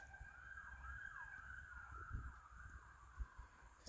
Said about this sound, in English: Man, some kind of sirens.